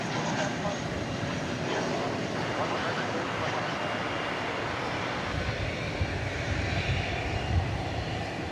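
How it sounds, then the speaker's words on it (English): An airliner arriving at DFW Airport at night roars steadily, its engine noise broad and sustained at a middle distance, swelling slightly toward the end, with a voice talking over it. "Next plane coming in is American Flight 1832 from the Smile High city of"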